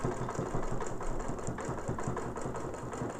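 A sewing machine runs in a short continuous burst, its needle knocking rapidly and evenly as it stitches back down a seam line, close and clear with no talk.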